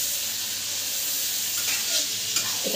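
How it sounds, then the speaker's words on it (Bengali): Offal pieces fry in hot oil with salt and turmeric in a pan, a steady close sizzle and hiss with occasional stirring scrapes near the end, no voices. "নুন আর হলুদ গুঁড়ো দিয়ে আমি ভেজে নেবো।"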